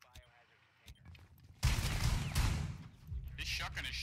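A shotgun fires in Rainbow Six, one sudden loud blast followed by a rolling burst of heavy gunfire, preceded by quieter game sounds and brief chatter from players.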